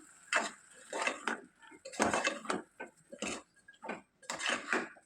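A spoon stirs soaked moong dal and rice through a hot tempering in a cooking pot, making repeated scraping and clinking strokes against the metal. The strokes come in uneven bursts, close and fairly loud, with no talking.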